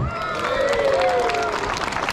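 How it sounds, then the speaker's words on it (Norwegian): A crowd at a youth football cup applauds and cheers as a boy is welcomed in, sustained clapping with voices and whistling mixed through. "Klapp han inn."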